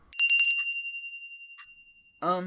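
A bright bell rung to summon refreshments to a meeting gives several quick metallic strikes, then a long ringing tone decays away before a voice cuts in at the end.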